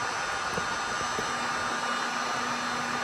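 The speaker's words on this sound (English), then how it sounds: "with the heat gun, put it on the highest setting" A heat gun set to its highest setting blows a steady, loud, continuous roar while heating 3M Gloss Black Rose vinyl wrap on a Subaru BRZ hood, with no breaks or talking.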